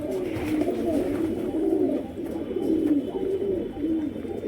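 Pigeons being fed grain give low, rolling coos in repeated waves, close and clear, over a soft background rustle with no voices.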